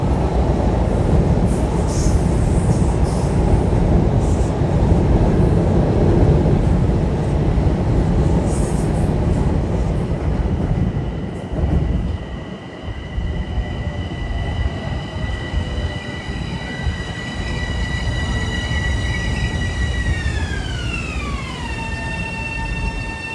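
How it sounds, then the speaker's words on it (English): A Metro-North train rumbles past at close range with loud, continuous wheel roar, then a lull and high wheel squeals and tonal whines that slide downward as it moves on. "And shortly you should be having probably the most crowded train on Metro North"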